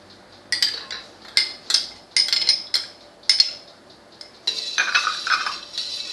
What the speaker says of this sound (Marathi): दुधात टाकल्यावर असं हलवून घ्यायचं।